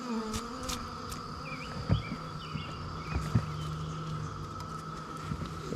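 Honeybees buzz around an opened hive as they are brushed off the frames during a spring honey harvest; a steady, faint hum with scattered soft knocks and taps, and no talking.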